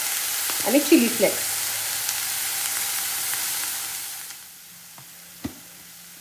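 Vegetables sizzle in a pan over a high flame for pink sauce pasta, a steady loud frying hiss with brief stirring clatter early on, then quieter; someone speaks briefly over it.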